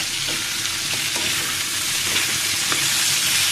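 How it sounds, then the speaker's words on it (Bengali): Raw banana pieces fry in a pan with a steady, continuous sizzle and crackle, close and even in loudness throughout, with occasional soft stirring knocks and no talking. "এ পর্যায়ে আমি কলাগুলাকে একটু ভাজি করে নেব"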